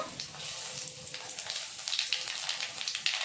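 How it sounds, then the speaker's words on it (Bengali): Black cumin seeds hit hot oil and sizzle, a bright crackling hiss with sharp little pops that grows busier and louder over a few seconds. "ওই তেলে আমি দিয়ে দেব কালো জিরে"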